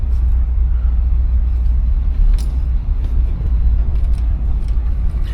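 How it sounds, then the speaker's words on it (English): A 1966 Cadillac Eldorado with drum brakes all around drives along, its engine a loud, steady low rumble from inside the car, with a few faint clicks and rattles and no talking. "let's take this for a drive."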